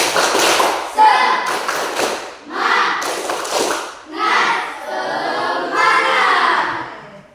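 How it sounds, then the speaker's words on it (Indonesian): A school class performs a rhythmic 'tepuk semangat' clap chant, with bursts of hand claps and taps alternating with children and a teacher chanting together in a loud, near, patterned sequence. "mari kita tepuk semangat dulu ya"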